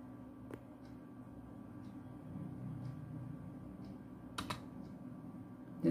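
A few scattered computer keyboard keypresses, soft isolated clicks over a steady low hum from a computer setup, with a louder click at the very end.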